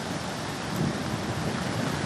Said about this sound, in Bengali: নিম্নচাপের জেরে বৃষ্টি এবং সেই বৃষ্টির জেরে কার্যত জলমগ্ন কলকাতা